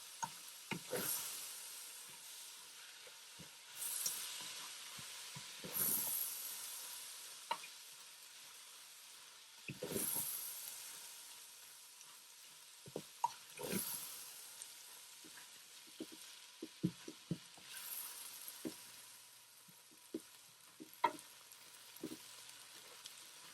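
A spoon stirs abacha African salad mixture in a pot, giving soft scraping and sloshing strokes in irregular bursts over a faint steady hiss.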